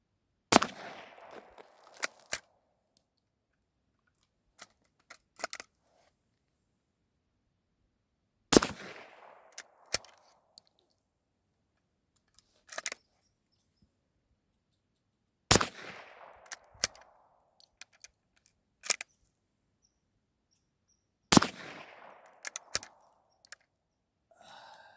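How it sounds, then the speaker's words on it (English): Four loud, sharp gunshots fired at an orange soda bottle crack out outdoors, several seconds apart, each followed by a short echo and some scattered clicks and handling noises in between. "So I am shooting just a little bit low. I hit right under the cap and I was aiming right at the center of it."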